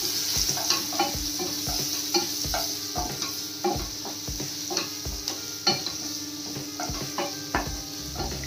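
Onions and spices, with a spoonful of dry mango powder, stirred in a hot pan for a crispy raw-potato snack: a steady sizzle broken by repeated scraping spoon strokes in an irregular rhythm, close and clear, with no talking.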